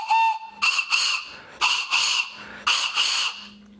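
A shrill carrot whistle is blown in several short, breathy squealing bursts with brief pauses between them, close and loud.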